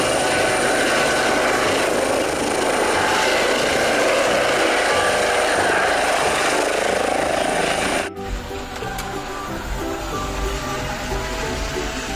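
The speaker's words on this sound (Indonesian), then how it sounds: "Ada helikopter." A helicopter's steady rotor whine and hum holds loud for about eight seconds, then cuts abruptly to a quieter, different mechanical background.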